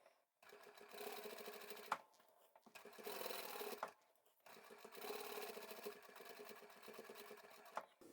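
A sewing machine stitching the seam of a ponytail beanie hat, three quiet runs of rapid whirring separated by short pauses and small clicks, close but faint.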